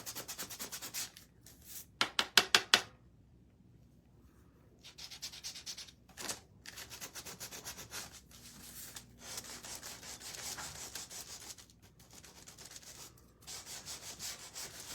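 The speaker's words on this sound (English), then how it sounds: "But I love this little gator sander." A small Gator detail sander works on wood in intermittent bursts, a steady buzzing rasp that starts and stops, with a few sharp knocks early on.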